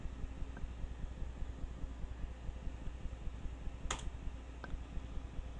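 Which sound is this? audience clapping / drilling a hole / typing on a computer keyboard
typing on a computer keyboard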